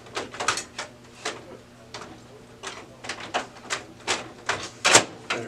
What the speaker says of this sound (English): we're going to reinstall the fuser and slide it right back in.